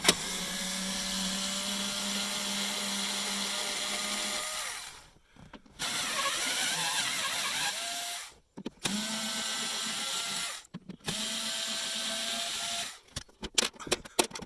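A power driver fitted with a Torx bit backs out the screws holding the plastic centre console compartment of a 2005 Hummer H2. Several whirring bursts of a few seconds each, separated by short pauses, sound up close.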